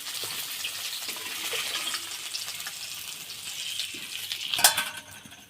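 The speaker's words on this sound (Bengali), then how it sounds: "একটা মাছ আছে, ভেজে নেব" Fish fries in hot oil in a pan, producing a continuous close hiss and sizzle. A sharp utensil clatter comes near the end.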